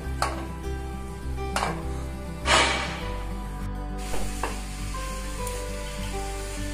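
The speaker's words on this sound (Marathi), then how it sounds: "आपण आता हे किसलेले गाजर टाकून घेऊ" Grated carrots hit a hot pan for gajar halwa, setting off a loud close sizzle and hiss with a few sharp bursts as they are stirred, a steady low hum underneath and no talking.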